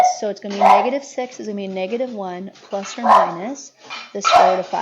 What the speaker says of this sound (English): I don't know if you guys can hear my sharp little dogs barking right now